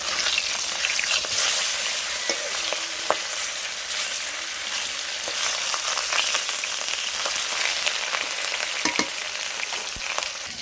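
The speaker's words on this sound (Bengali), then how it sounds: "তেলটা দিয়ে মাছগুলো এক এক করে ভাজবো।" Salted, turmeric-coated catla fish pieces fry in hot oil with a loud, steady sizzle and scattered sharp crackles and pops throughout.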